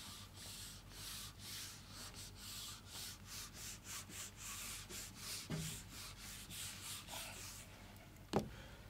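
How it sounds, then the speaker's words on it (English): Rubbing out writing on a classroom board, a steady series of soft, rhythmic scrubbing strokes, fairly faint and close, ending with a small knock. "Let me rub this portion."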